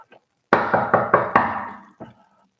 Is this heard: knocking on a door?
yes